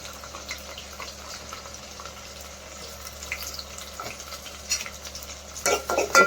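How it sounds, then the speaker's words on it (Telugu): Cabbage keema fry being stirred in a pan, a soft scraping and light sizzle that stays quiet and steady, with a few louder spoon scrapes near the end and no voices. "ఒకసారి కలుపుకుందాం. తర్వాత ఆనియన్స్ వేసుకోవాలి."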